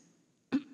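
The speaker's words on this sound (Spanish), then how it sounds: "Perdón, ando con un poco de tos." A single brief cough bursts out abruptly after near silence, close to the microphone at a colloquium talk.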